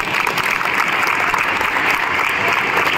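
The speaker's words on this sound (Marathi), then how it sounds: "चांगली असेल तर टाळ्या वाजवा." An audience at the opening of a state senior tennikoit championship claps steadily, a dense and close wash of applause filling the whole moment.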